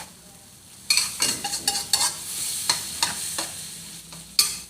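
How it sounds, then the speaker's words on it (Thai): Luffa gourd and egg are stir-fried in a hot pan, with a continuous sizzle broken by repeated scraping stirs of a utensil against the pan, close and fairly loud. "ผัดบวบใส่ไข่นะคะ"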